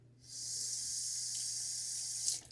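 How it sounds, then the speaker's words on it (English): Water runs steadily from a tap onto a wet shaving brush, a close, continuous bright hiss and splash lasting a couple of seconds with a low hum underneath. "I'm actually going to add some more water into this brush."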